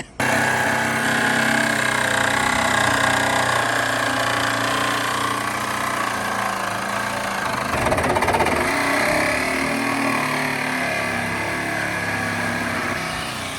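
Reciprocating saw cutting into a Ford Escort ZX2 during a rough off-road build, a harsh buzzing rasp that runs continuously and loud up close, with a brief shift in pitch midway and no talk over it.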